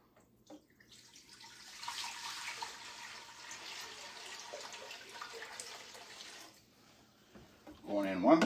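Tap water runs into a pot, a steady hissing splash that holds for several seconds before stopping, with quiet talk in the background and a louder voice at the end.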